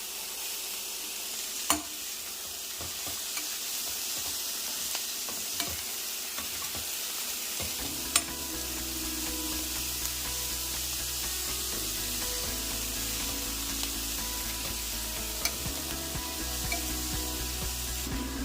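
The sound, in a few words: tomatoes being added and stir-fried for dal khichdi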